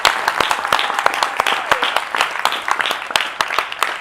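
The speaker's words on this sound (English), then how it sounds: "give him a hand clap" A church congregation claps for a man at a pastor's sermon, the broad applause steady and close for the full four seconds, with sharp individual claps rising above the wash and faint voices underneath.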